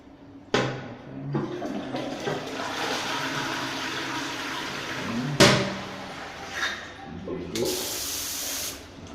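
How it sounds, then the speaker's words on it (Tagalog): A household toilet flushing: a sudden loud rush of water that swirls and drains, followed by refill hissing and a second surge, with clunks and faint handling noise around it, close up in a small bathroom. "Ang kanyang flush."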